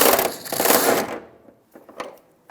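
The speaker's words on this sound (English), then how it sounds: "sneak a socket up there with an extension, and let's unbolt these bolts" A socket ratchet with an extension works 14mm bolts loose on the fuel tank strap of a 2012-2017 Toyota Camry, a close rapid clicking burst followed by a few sparse metallic taps and clinks.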